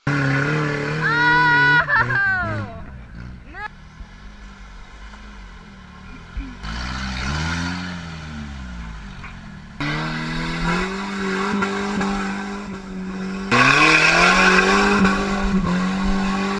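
A 1988 Toyota 4Runner with a 22RE four-cylinder and big tires revs hard off-road, its engine climbing and falling in repeated loud bursts with tire squeal, close and continuous.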